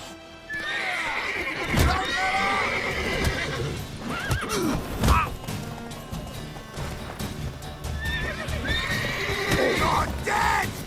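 Horse neighing and whinnying in The Witcher 3, with clip-clop hoofbeats, a shouted voice and game music blending in; a clear whinny near the start and again near the end, with thuds in between.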